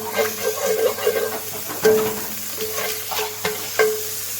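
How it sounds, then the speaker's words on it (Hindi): Bay leaf, cinnamon and green cardamom fry in hot oil in a pan, a close steady sizzle broken by several scraping stirs of a spoon, with no talking. "तेज़पात, दालचीनी, सब्ज़ इलायची, अच्छी तरह से फ्राई कर लेंगे।"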